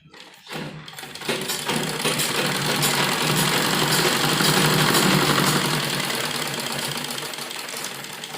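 A sewing machine stitches a folded fabric strip for a printed kurti, starting after a brief quiet and then running steadily and close for several seconds, a continuous mechanical whir with no talk over it.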